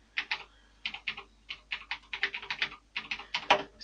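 Rapid keystrokes on a computer keyboard during a Microsoft Word lesson, coming in quick uneven bursts with short pauses, close and fairly crisp, with no talking.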